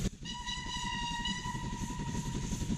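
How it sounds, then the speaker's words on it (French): A steady, sustained train whistle with a clear tonal pitch, sounding over the low rumble of a moving train. "Écoute, Brutus, le sifflement d'un train."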